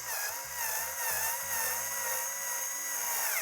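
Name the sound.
screwing legs onto a TCL X11L TV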